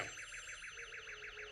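A security alarm set off after gunshots at night rings steadily on its own, a rapid, regular warbling electronic tone repeating evenly at moderate loudness.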